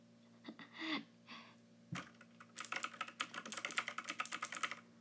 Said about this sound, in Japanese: キーボードのこのカチカチ音昔から大好きなのよ。